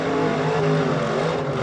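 An off-road race car engine at King of the Hammers revs in neutral with a steady, loud harmonic drone, close and continuous, alone without talk.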